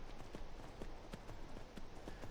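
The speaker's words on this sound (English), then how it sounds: "we can grab the horse, ride on" Horse hooves beat at a steady galloping rhythm while riding in Skyrim, a repeated clip-clop pattern of moderate level over a continuous background bed, with no voices.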